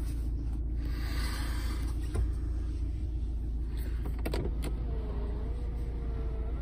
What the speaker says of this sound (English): There's a tilt and slide electric sunroof.